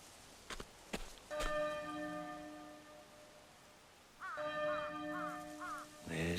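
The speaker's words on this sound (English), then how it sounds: "There's the bell again." A church bell in the video game Octopath Traveler II tolls in two separate rounds of resonant, ringing strikes, sounding distant and soft against a quiet background with a few faint taps.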